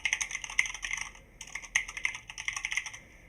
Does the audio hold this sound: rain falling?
no